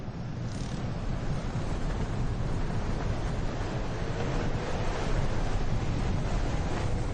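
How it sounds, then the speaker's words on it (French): Strong wind at Essaouira, Morocco roars steadily across the microphone, a dense continuous rush with heavy low buffeting and no voices. "Le vent souffle vraiment trop fort."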